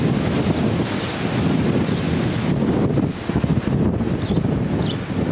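High winds roar and buffet outdoors in Roswell, New Mexico, blowing dust around. The gusts rumble heavily and without a break against the microphone, easing only briefly partway through. No voices can be heard.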